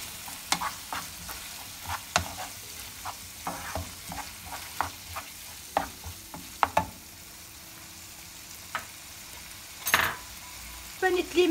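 Spiced mince mixture for an oven-baked aubergine moussaka being stirred in a pan with a spoon, a steady run of soft scraping strokes and light clinks over a faint sizzle, fairly close, with no talking.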